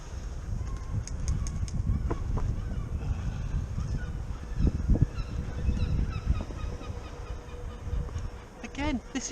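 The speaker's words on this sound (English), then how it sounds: "What the fuck is with these seagulls?" Gulls squawking around an annoyed person in a town by the sea, their harsh calls rising in several short bursts over steady outdoor background noise, with a distinct cluster of cries near the end.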